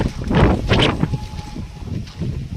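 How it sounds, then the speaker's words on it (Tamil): Strong wind roars and buffets the microphone in heavy, uneven gusts at a hill temple near Courtallam, loud throughout with a low rumbling undertone. "காற்று அடிக்குது பே காற்று"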